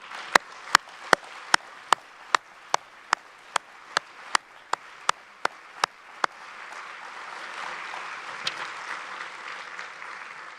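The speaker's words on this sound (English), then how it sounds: "I would like to give you just a clap in both directions, to your kids, and you give it back to your parents and supervisors" A graduation ceremony audience of PhD graduates, parents and supervisors breaks into applause, opening with a run of sharp, evenly spaced single claps that give way to a sustained wash of crowd clapping.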